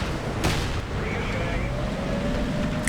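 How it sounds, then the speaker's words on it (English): A single heavy cannon blast from an M103 tank in a video game, a sharp boom near the start trailing into a low rumble, with a voice speaking over it. "The M103 takes a shot at me,"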